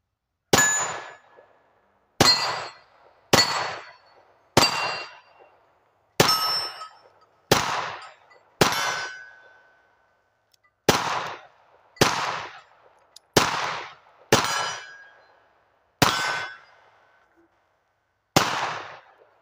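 A 7.62 rifle fitted with a SilencerCo Spec War suppressor fires about twelve sharp cracks, each with a short decay, at an outdoor shooting range. The shots come at irregular intervals of a second or two and are loud and close.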